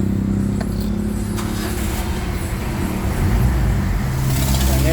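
A Mitsubishi Adventure engine running right after being started, a loud, steady low rumble close by, with its idle rising slightly partway through.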